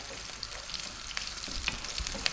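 Chopped onion, one cup, frying in a pan over fairly high heat for a potato curry, with a steady close sizzle and occasional stirring scrapes and ticks throughout.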